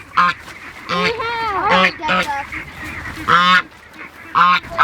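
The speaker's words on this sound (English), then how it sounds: "So we had these ducks." Several ducks quack loudly and close by in repeated bursts, some calls overlapping in a noisy, honking chorus.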